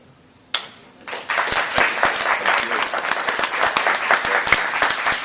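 Conference audience at a health IT forum session breaks into applause for the speakers, a sudden burst of steady, close clapping from a full room that holds strong throughout.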